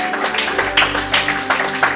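A church congregation claps together, a dense burst of applause that runs the whole moment at close to moderate range with no talk over it.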